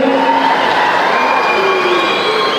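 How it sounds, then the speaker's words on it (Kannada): Loud, steady crowd noise at a ceremony for a religious leader of a Bhovi guru seat, a sustained roar of audience applause and cheering that stays at full level throughout. "ಒಂದು ಜೋರಾದ ಚಪ್ಪಾಳೆ ಈ ಸಂದರ್ಭದಲ್ಲಿ"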